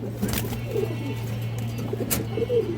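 A female pigeon coos softly in short, low, repeated phrases over a steady background hum, close by.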